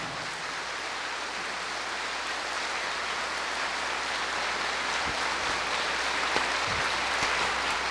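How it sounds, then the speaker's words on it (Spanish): A church congregation claps steadily in sustained, even applause that keeps up evenly across the whole stretch, dense and hissing like rain. "Démosle un caluroso, pero que se oiga y que se sienta, aplauso"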